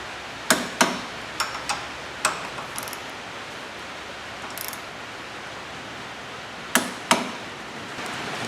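A torque wrench clicks while tightening connecting rod nuts held in a wood-faced vise during a 1929 AV8 coupe build: sharp, isolated clicks in small clusters, some paired, over steady background hiss.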